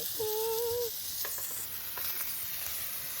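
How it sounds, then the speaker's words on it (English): Steaks sizzling on a camp stove outdoors in windy weather, a soft steady fry hiss under wind noise with a brief tonal whine early on, faint and fairly distant. "Boyd's cooking steaks."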